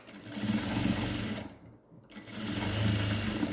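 A sewing machine stitches fabric for a newborn baby's gown in a close, rapid, even whir, running in two bursts with a brief pause between them.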